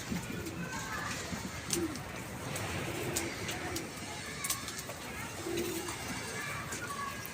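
Pigeons coo softly in repeated low, rounded calls, with faint background noise and occasional clicks.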